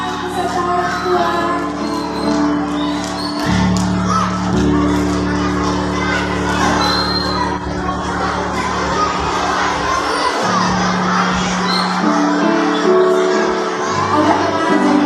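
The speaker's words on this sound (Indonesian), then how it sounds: "Kasih tepuk tangan." A large crowd of children and parents cheers and shouts at a school awards ceremony, a loud, steady roar that lasts throughout, with a sustained tone running underneath.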